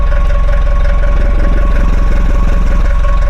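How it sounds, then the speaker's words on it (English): Exhaust of a 1979 Mercedes-Benz W123 diesel idling, a loud steady low-pitched rumble with fast even diesel knocking and no break, recorded close to the tailpipe. "It's a lovely diesel sound, as you can hear. Let me show you the exhaust sound."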